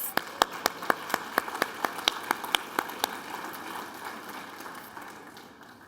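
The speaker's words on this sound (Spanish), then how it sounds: "un aplauso para ustedes" An audience claps in a slow, even rhythm, about a dozen distinct claps fading into a quieter, softer patter toward the end.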